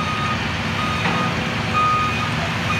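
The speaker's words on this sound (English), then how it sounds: "Getting that semi back in this courtyard is quite a chore." A semi truck reverses slowly into a school construction courtyard at East Leyden High School, its backup alarm beeping steadily over a loud, constant diesel rumble and general site noise, with no talking.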